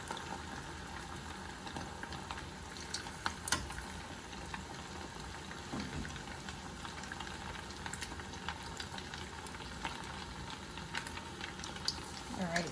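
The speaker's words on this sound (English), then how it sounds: "Remember not to overcrowd. So you cannot fry all of this at once. Just maybe 4 or 5 pieces." A few pieces of food frying in hot oil, kept uncrowded in the pan, give a steady bubbling sizzle that runs throughout at moderate level, with talk heard faintly over it.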